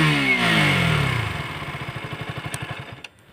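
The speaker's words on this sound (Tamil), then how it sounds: "பீட்டு தான் அந்த டியூக்குனாலே அந்த பீட்டு" A KTM Duke 200 BS6 motorcycle revs loudly up close, then settles into a steady, rhythmic exhaust beat of evenly spaced low pulses that fades out near the end.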